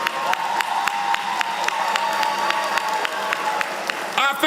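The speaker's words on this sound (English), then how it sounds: "I think we ought to give our student government and our students a round of applause for" Applause from a large commencement crowd honoring the student government at a university graduation ceremony, dense continuous clapping with scattered cheers, steady and full across the moment, and a voice briefly heard near the end.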